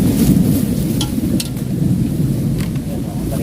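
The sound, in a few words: storm with thunder and rain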